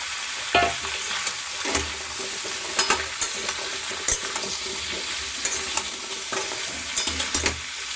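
Potatoes fry in a pan for a vegetarian pumpkin-leaf curry, a steady sizzle broken by repeated scraping and clacking of a spatula stirring them, close and with no talk.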